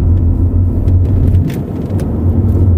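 A Volkswagen Passat B6 2.0 TDI Comfortline diesel accelerating with a steady, loud low engine rumble inside the cabin, holding constant throughout with no talking.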